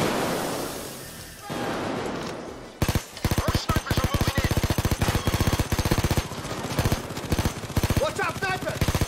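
Rapid machine gun bursts from Payday 2 ring out after a noisy opening of breaking and clatter, sustained and loud with steady rhythmic firing, while voices talk underneath.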